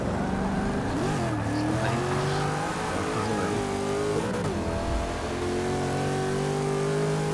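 A 1964 Impala in Forza 6 roars through a race, its mid-pitched engine revving and shifting with rising and falling pitch, tires briefly squealing, loud and close throughout with no talking.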